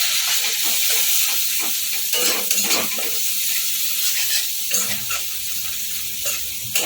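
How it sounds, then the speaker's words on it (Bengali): Coriander powder loosened with a spoonful of water sizzles in a pan for sambar dal as a spoon stirs it. A loud, close, steady hiss is broken by repeated scraping strokes and light clinks. "একটুখানি নেড়ে ছেড়ে নিয়েছি"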